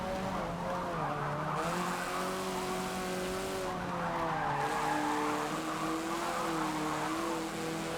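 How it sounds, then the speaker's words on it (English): Tires squeal and skid on a vintage sport compact car racing in Forza Motorsport 7, a steady wavering screech over engine drone lasting throughout, with no talking. "this car skids a little bit more than I'd like"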